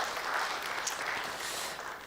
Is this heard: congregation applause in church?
yes